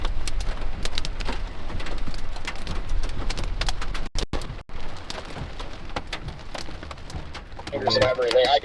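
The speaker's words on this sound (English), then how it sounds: "There's rapidly rotating rain curtains right here." Rain falls in a dense, rushing wash during a tornado-warned storm near Burlington, close and constant with gusty surges and brief dropouts.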